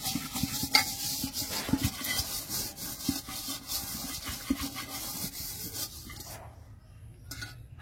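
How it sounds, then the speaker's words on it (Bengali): Ghee rubbed around the inside of a cooking pot while preparing village-style chicken biryani, giving a steady close scraping and rubbing texture with soft knocks before fading to near quiet at the end. "হাঁড়ির মধ্যে ভালো করে ঘিটা মাখিয়ে দিয়েছি।"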